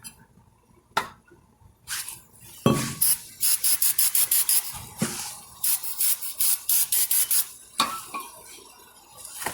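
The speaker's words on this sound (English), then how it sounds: "What you do is to clean a rotor with a brake cleaner." Brake cleaner sprays onto a Chevy Malibu front brake rotor in a run of short, sharp hissing bursts, some separate and some in quick rhythmic pulses, with faint clinks between them.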